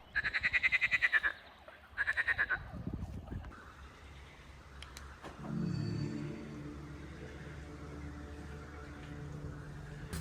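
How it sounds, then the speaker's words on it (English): Frogs at a pond in Russia croak in two loud, rapid pulsing trills, then a lower rumbling chorus carries on more faintly in the open outdoors. "approached the pond and listened to its cacophony of Russian frogs"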